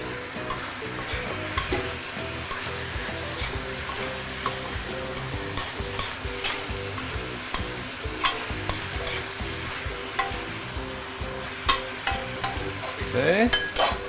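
Pork leg stir-fries in a hot wok after light soy sauce goes in, a steady sizzle broken by repeated scraping, clattering stirs at an irregular rhythm, close and alone without voices.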